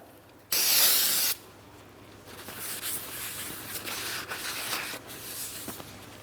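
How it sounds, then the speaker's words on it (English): Parts cleaner sprays onto brake parts from a 2003-2007 Cadillac CTS in one loud, close hiss lasting under a second, followed by softer, repeated rag-rubbing swipes as the surfaces are wiped. "Parts cleaner and clean rag here. Make sure we clean the back side."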